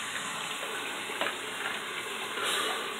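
Cool water running and splashing over the face after a shave, a steady close rush with slight surges and a brief louder swell near the end.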